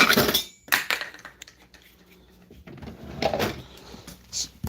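Someone rummages through a kitchen utensil drawer, metal utensils clinking and rattling in close, uneven bursts with quieter pauses between.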